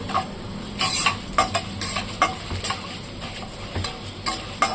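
Garlic and vegetables sizzle in a pan while being prepared for a ridge gourd and tomato chutney, with steady frying hiss punctuated by repeated stirring scrapes and clinks of a spoon against the pan, close and moderately loud.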